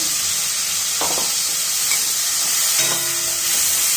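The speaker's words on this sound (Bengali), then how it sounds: "সামান্য একটু জল দিয়ে এটাকে কষাবো" Spice paste of ginger, garlic, onion, tomato and green chilli frying with a little water in a pan, a steady close sizzle and hiss with a few light stirring scrapes, no talk.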